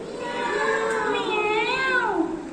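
A person imitates a cat's meow, a drawn-out, wavering whine rising and falling, fairly close with steady background hiss.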